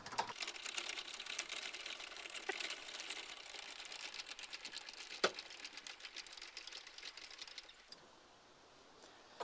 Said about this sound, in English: We're gonna decouple the trailer from the truck and just crank the jack down until it decouples itself and places the weight on the wheels.